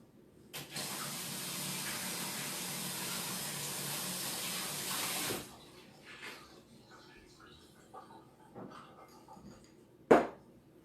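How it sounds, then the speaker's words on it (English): Running tap water gushes steadily over a funnel for about five seconds, then stops, followed by quiet handling clatter and a sharp knock near the end. "I'm going to just go rinse my funnel"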